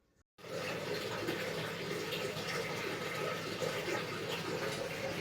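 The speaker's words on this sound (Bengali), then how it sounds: "ঠিক আছে গাইস, এবার জলটা ফেলছি আমি।" Water from a large home fish tank rushes out in a continuous, even gush, starting abruptly after a moment of quiet and holding steady and close.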